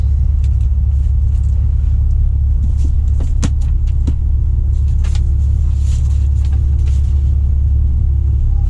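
A 24-year-old truck with close to 800,000 miles keeps up a steady, loud low engine rumble and road drone while driving, with a few faint rattles and clicks over it and no talk.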